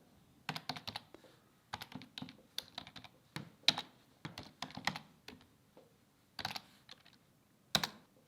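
Command typed on a computer keyboard, a close, quiet run of crisp key clicks in irregular bursts with brief pauses, no voices.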